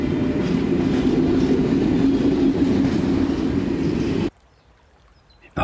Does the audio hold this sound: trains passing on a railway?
yes